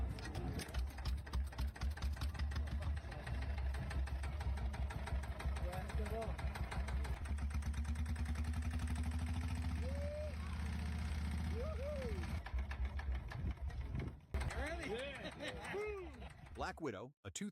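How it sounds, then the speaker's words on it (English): A custom Harley-Davidson fitted with a 700cc Yanmar single-cylinder diesel engine runs with a steady, rapid knocking chug, loud and close throughout, while a voice speaks over it and the tone shifts briefly near the end. "This bespoke Harley-Davidson rumbles with a 700cc Yanmar diesel engine, churning out 20 horsepower from its single-cylinder sole."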